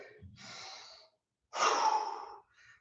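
Heavy panting after a kettlebell workout: two long, close breaths, a softer exhale then a louder, harsher gasping inhale-exhale after a brief pause, with a faint trailing breath at the end.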